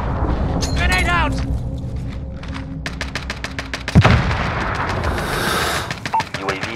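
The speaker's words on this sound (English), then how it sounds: "Grenade out!" A grenade blast in the shooter game Call of Duty: Modern Warfare lands as one loud, sharp thump about two-thirds of the way through, amid ongoing battle noise, gunfire crackle and voiced radio chatter.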